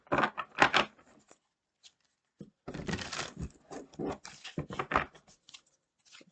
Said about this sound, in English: Okay, 3 more shuffles.